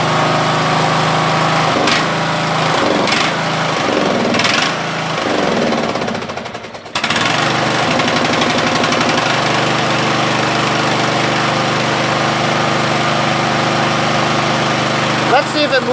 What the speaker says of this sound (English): it wants to stall if I don't keep it on choke